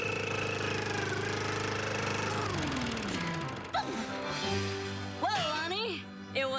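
A voice imitates a big, noisy gas lawn mower engine, droning loudly with a sliding pitch that sags and then breaks into rough sputters.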